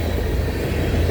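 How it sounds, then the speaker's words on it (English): A BNSF freight train's distributed power locomotive labors uphill into Livingston, Montana, giving a loud, steady low rumble with a continuous throbbing engine drone. "That DPU cranking as they go up the hill into Livingston."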